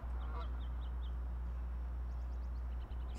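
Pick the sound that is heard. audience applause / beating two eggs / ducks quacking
ducks quacking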